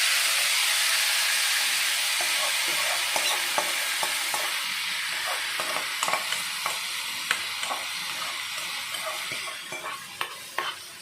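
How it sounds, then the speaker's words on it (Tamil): Boiled banana flower being stir-fried in a pan for poriyal gives a steady close sizzle with repeated scraping and stirring clicks throughout, with no talking. "இந்த வேக வச்சுருக்க இந்த பூ எடுத்து இதில் போடணும்"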